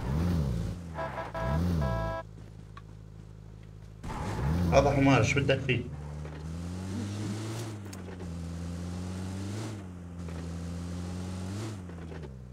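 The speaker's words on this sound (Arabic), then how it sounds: "سمعوا صوت السيارة" A car engine in the PUBG video game hums and revs in repeated rising surges under steady overlapping talk from players, fairly quiet overall.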